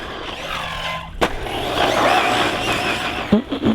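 A Team Corally Radix6 RC car running on 6S power accelerates hard, a loud, sustained high-pitched electric motor whine with a sharp transient near the start and brief tire or surface noise toward the end.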